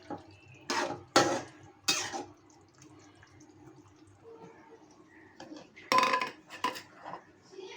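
Raisin and nut paste is added to a pot of braised beef for biryani. Sharp metallic clinks and scrapes of a utensil against the pot come in clusters, close and fairly loud, with quieter handling between them.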